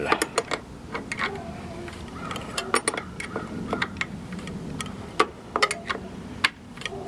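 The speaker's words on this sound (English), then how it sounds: "Let's crack with a 10mm wrench the little bowl." A 10mm wrench loosens the carburetor bowl on a Homelite HG600 (Yamaha EF600) generator, giving scattered sharp metallic clicks and ticks over quiet background noise, with a few louder taps spread unevenly across the stretch.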